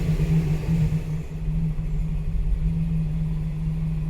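A car engine held at roughly 2,500 RPM, a steady, even drone that neither rises nor falls, close by with no voices over it.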